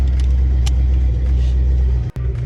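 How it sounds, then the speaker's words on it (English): A box Chevy car idles and rolls out of a driveway, its engine a steady, loud low rumble up close with a brief dropout near the end and no speech. "Let your daddy take this car out the driveway."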